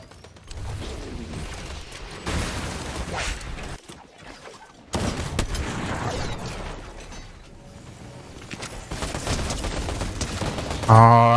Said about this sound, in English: I shot that guy with a pump and an AR and he still lived